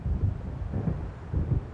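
Low rumbling thunder and wind of an approaching storm in the video game Alan Wake, rolling in a few soft pulses, muffled and distant.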